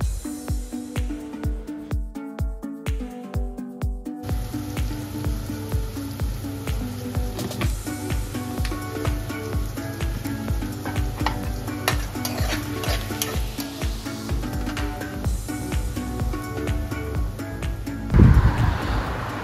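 Onion sautéing in a pan for chicken curry, a steady loud sizzle with repeated stirring scrapes throughout and a louder clatter near the end.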